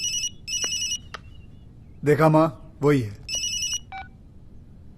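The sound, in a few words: telephone ringtone ringing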